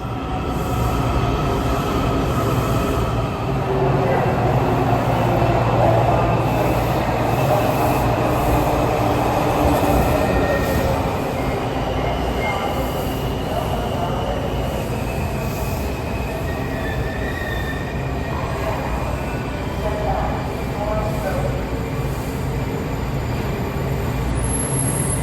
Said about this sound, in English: We're on a Red Line train.